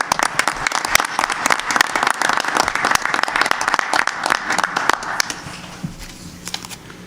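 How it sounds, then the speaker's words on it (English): Dense applause from a Board of Education meeting audience honoring young author winners, a steady burst of many clapping hands that fades out over the last two seconds. "let's give them a round of applause"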